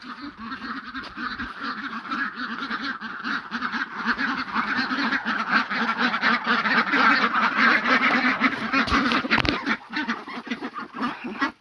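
Ducks quack steadily and loudly up close, many voices overlapping in a continuous noisy chorus.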